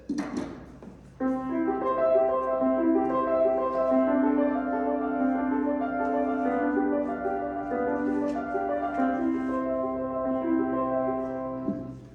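Solo piano plays a flowing arpeggiated Chopin étude from Op. 25, broken chords rippling steadily at a soft, even volume after a brief quiet start.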